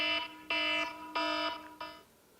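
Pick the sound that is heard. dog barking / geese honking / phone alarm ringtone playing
phone alarm ringtone playing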